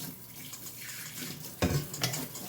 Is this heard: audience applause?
no